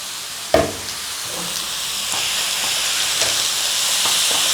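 Lamb hits a hot pan with ginger and garlic, an initial sharp crackle giving way to a loud, steady sizzle and hiss with occasional pops.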